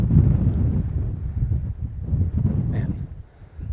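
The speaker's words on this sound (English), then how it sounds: "Man, so much wind." Steady wind buffets the microphone beside the Upper Owens River, a low, rumbling, gusty roar that swells and eases throughout.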